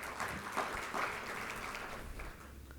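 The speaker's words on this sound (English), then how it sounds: "please welcome Nitin sir with a big round of applause" Audience at a professional talk on internal auditing claps to welcome a guest speaker: soft, fairly distant applause from a modest group, steady for a couple of seconds and tapering slightly at the close.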